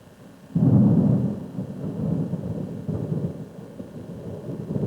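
Thunder from a thunderstorm with lightning: a sudden loud rumbling crack, then a long, low rolling rumble that pulses and lingers.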